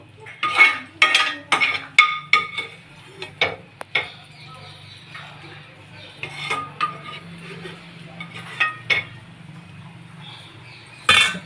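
Tempering poured into buttermilk curry and stirred in a pan, with repeated metallic clinks and scrapes of a spoon against the pan in an uneven rhythm over a low steady hum.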